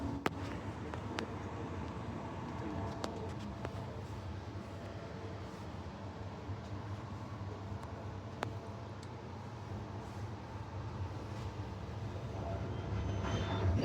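A commuter train, the Victoria Park shuttle, crosses over points onto the other track. A steady low rumble runs throughout, with a few sharp clicks and ticks over the junction, heard from inside the carriage.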